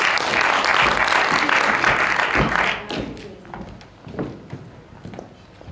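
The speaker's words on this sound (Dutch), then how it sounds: "Geef ze een applaus." An audience at a local business award ceremony in Venray, Netherlands, claps loudly and steadily for a few seconds, then the applause fades into scattered claps and light thuds.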